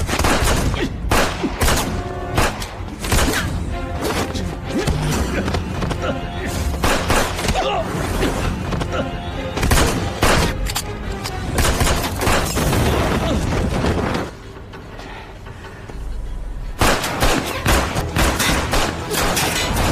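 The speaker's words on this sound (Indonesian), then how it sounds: "Aksi pertarungan pistol dari jarak dekat yang sungguh keren." Close-range pistol gunfight from an action film: rapid, loud shots and impacts crackle almost continuously over a busy soundtrack, easing briefly near the end before the firing resumes.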